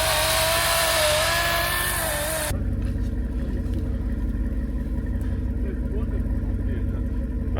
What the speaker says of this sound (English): Hopefully chainsaw would work.